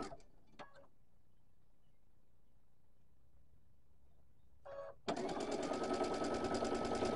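A sewing machine stitches quilt block fabric pieces in a short burst near the end, a fast close mechanical whir after a quiet stretch with a brief clatter or two earlier.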